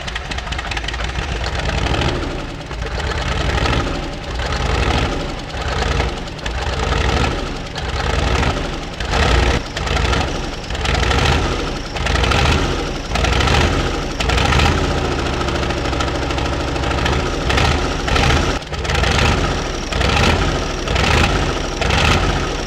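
A rare 12-cylinder F12LL 413FW diesel engine, rated at 204 kW at 2,300 RPM and once used in heavy machinery and mining equipment, runs loud and close with a deep, knocking rumble and uneven pulsing throughout.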